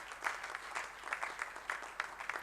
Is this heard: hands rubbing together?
no